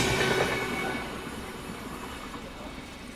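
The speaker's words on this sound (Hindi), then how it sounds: "रात के 9:30 बजे करीब अपनी पहली ओवरटेक करते हुए बाबा बैद्यनाथ धाम हम सफर से।" Baba Baidyanath Dham Humsafar Express rushing past at night during an overtake, a loud steady rumble of rail cars and wheels that fades slightly as it goes, with no talk.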